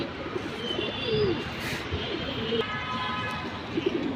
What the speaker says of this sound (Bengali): আসেন দুটো দেখাই কবুতরগুলো